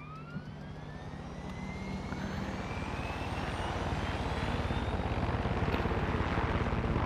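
A helicopter in the video game Far Cry 6 runs steadily, its rotor thump and whining turbine growing louder and fuller over several seconds, with rising engine tones and no talk.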